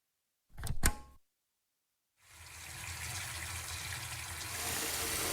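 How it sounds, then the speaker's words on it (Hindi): Water gushes steadily from a tap into a bucket, a continuous rushing fill that starts after a brief knock and holds level to the end, with no one speaking. "ये बाल्टी भर गई है, नल तो बंद करो। कितना पानी बह रहा है।"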